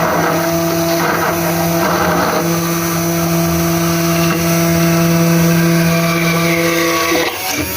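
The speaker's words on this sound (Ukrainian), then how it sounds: "Ставимо блендер на яйце." An immersion blender whirs with a steady, loud motor hum for several seconds while whipping homemade mayonnaise from egg, its pitch shifting slightly before it cuts off near the end.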